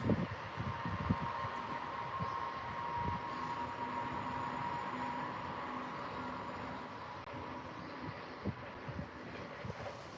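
A double-ended ACS-64 electric locomotive train passes, a sustained rumbling roar with rail clatter that holds for several seconds over wind noise, then eases slightly, with no voices.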